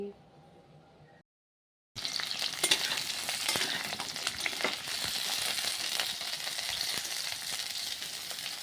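Pointed gourd and potatoes frying together in a pan, a steady bright sizzle with stirring scrapes that begins after a brief quiet gap and runs on loudly to the end.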